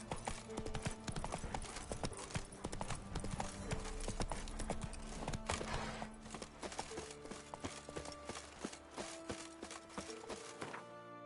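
Horse hooves clip-clop steadily in The Witcher 3, a close, even walking rhythm that runs the whole time, with faint game music underneath and no speech.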